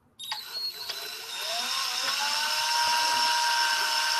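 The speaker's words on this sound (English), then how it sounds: "And we're going to drill." High-pitched power drill whine boring a pin hole into a joint on a Wonder Woman warhorse build, starting abruptly, then holding a loud, steady tone that rises slightly as the bit bites.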